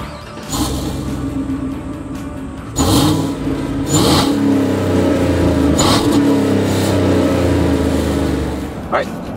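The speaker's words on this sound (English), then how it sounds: "Give the engine a little bit of gas and let go." A 2014 Chevrolet Silverado pickup's engine revs and pulls hard from a standstill at full throttle, its rising drone loud and close, with several sharp shifts or surges interrupting the climb.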